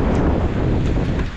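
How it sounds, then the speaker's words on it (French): Wind and rain during a rainy March bike ride at Bab Daya, a loud rushing wind buffeting the microphone with steady broadband hiss and no speech. "C'est au tour de la pluie et du vent."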